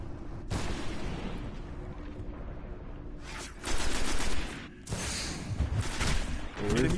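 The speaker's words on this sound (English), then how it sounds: "Where's that shot coming from?" Gunfire in a Destiny Crucible Domination match on PS4, bursts of rapid shots and booming impacts coming in several loud clusters over steady game ambience, with brief gaps between the volleys.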